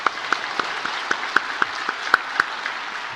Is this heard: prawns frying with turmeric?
no